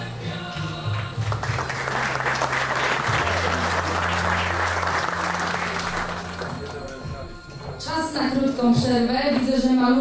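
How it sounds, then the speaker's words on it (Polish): Sustained audience applause at a sports gala honouring taekwondo champions, a thick wash of many hands clapping for several seconds beneath a low musical drone, then dropping away as music and voices take over at the end. "ogromne brawa"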